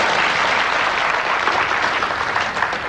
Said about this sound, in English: yeah, spontaneous applause